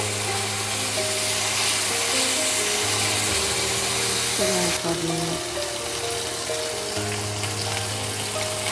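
Constant close sizzling of food frying in oil, a steady hiss with a low hum underneath.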